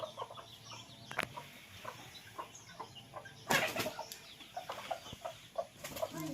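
Faint, distant clucking from a fowl with a brief flutter of wings midway, against a quiet outdoor background.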